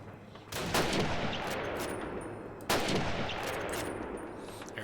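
Two loud, sharp sniper rifle shots crack out about two seconds apart, each trailing into a long echoing rumble over steady battlefield noise, in the original Call of Duty campaign.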